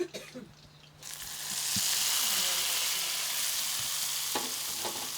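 Mustard seeds tempered in hot oil are poured over a Kerala salted-mango curry, bursting into a loud, steady sizzle that begins after a second of quiet and hisses on close-up for several seconds with faint stirring knocks.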